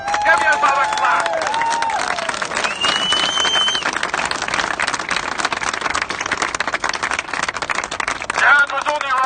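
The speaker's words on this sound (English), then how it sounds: "Give yourself a clap." A gathered audience claps together in a steady dense roar of applause that lasts several seconds, with whistles and voices cutting through on top.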